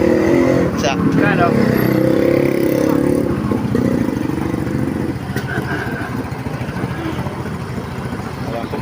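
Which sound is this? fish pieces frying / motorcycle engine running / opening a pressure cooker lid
motorcycle engine running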